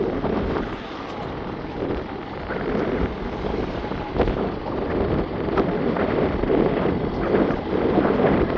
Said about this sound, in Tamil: இங்கே காற்று வந்து வேகம் அடிச்சு கொண்டுங்க.